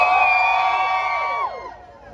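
A concert crowd at a birthday celebration show in Jamaica lets out a loud, massed scream that holds for over a second and then tails off and fades.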